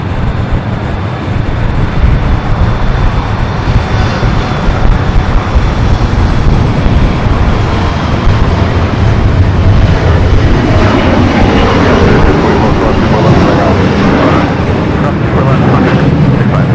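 An Air Tahiti Nui Boeing 787 Dreamliner arriving from Paris on runway 25 left at Los Angeles airport roars loudly and steadily, its broad jet rumble building slightly as it passes.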